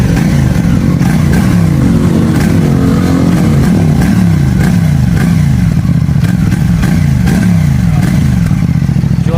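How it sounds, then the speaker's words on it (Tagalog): A CF Moto 450 SRS motorcycle on its stock muffler revs repeatedly in a steady rhythm of rising and falling engine notes, loud and close, with no talk over it. "Sound check natin mga boss, stock muffler ng CF Moto 450 SRS."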